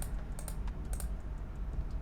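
Quick mouse and keyboard clicks during a Pokémon battle move selection, a steady run of crisp, close taps in uneven rhythm with no voices.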